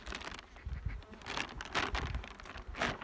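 Elgon honey bees buzzing around an opened hive during an autumn inspection, a faint wavering hum of many insects with individual bees swelling nearer in short bursts, no talk.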